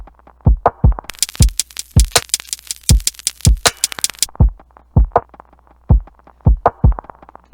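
An unfiltered lo-fi hip hop drum loop made in Maschine, punchy kicks and crisp snares with bright hi-hats in a steady repeating groove, the top end dropping out partway through.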